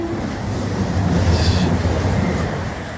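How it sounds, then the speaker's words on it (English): A CrossCountry passenger service from Manchester Piccadilly to Bournemouth rolls past in southern England near Eastleigh, a loud steady rumble of wheels and carriages that builds and then holds. "Cross-country service from Manchester Piccadilly to Bournemouth."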